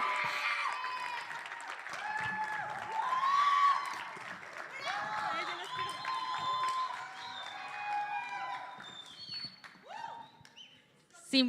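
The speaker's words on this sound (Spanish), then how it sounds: "vamos a recibir a Sara con un fuerte aplauso" An audience at an evening gathering applauds and cheers to welcome a speaker, lively clapping mixed with whoops and shouted voices that gradually thins toward the end.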